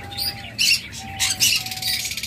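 Fischer's opaline lovebirds give sharp, bright chirps and squawks in short bursts, close and clear, over a faint steady hum.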